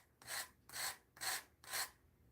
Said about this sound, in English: Okay, so this is my little sander